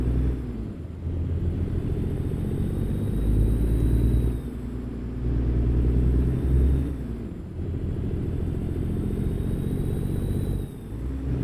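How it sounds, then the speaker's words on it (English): A heavy-haul truck hauling a heavy load in American Truck Simulator runs under light throttle, its steady low engine drone dipping briefly twice as it shifts up through the gears, loud and continuous. "Light throttle, and it goes through the gears very nicely."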